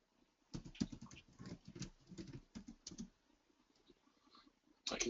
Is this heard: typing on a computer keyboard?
yes